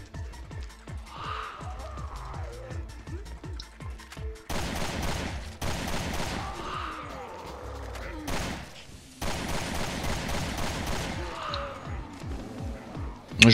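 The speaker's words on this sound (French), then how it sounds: "on va utiliser un peu de fusil d'assaut" Assault rifle gunfire in the video game Resident Evil Revelations 2, Commando mode: rapid repeated bursts of automatic shots, loud and close, mixed with in-game grunts and impacts.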